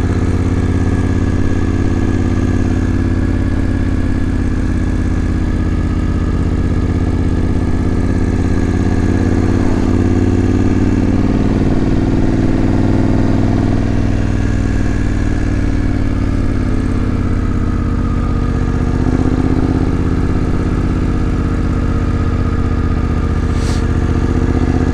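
A 2021 BMW 750 GS motorcycle on Anakee Wild 50/50 tyres rides through the Cocora Valley near Salento, its mid-pitched engine humming steadily with gentle rises and falls in revs, loud and close throughout, with no talking.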